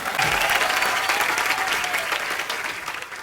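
Enthusiastic studio audience applause on The Kapil Sharma Show as actor Paresh Rawal is welcomed onstage: loud, dense clapping and cheering from a packed crowd, sustained for a few seconds before easing off.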